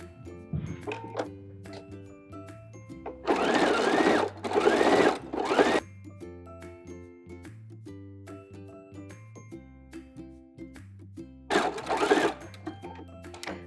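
Close by, a sewing machine stitches around the neckline of a beginner tank top in two short, loud bursts. The bursts are separated by a long pause filled with quiet tonal background sound.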